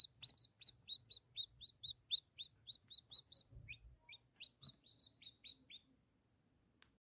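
Newly hatched chicks in a homemade egg incubator warmed by a bulb give a steady series of high, thin peeps, about three per second, fairly close and clear over a low hum.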